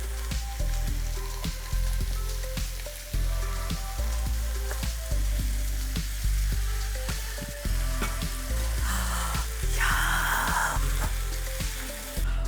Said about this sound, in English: And then I'm gonna stir it all together, and it's time to eat.